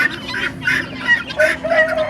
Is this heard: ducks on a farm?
yes